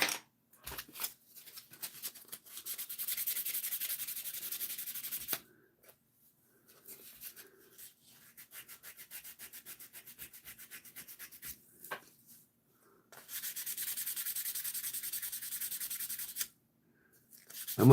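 Cabinet scraper blade with a burred edge drawn over wood, giving bursts of dry, hissing scraping strokes in quick rhythm, with short pauses between passes, close and moderately loud.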